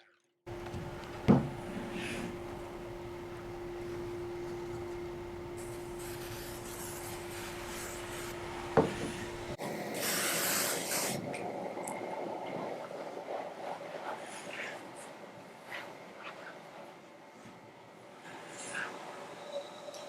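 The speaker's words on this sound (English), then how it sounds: "each foam rib is measured and cut to fit perfectly inside the canoe" A foam rib cut to fit inside a canoe hull, with soft continuous rasping and rubbing strokes, a couple of sharp knocks, and a brighter hissing scrape partway through, all fairly faint in a workshop.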